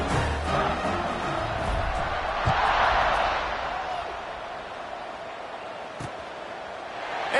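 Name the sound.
stadium crowd buzzing, from video game NCAA 26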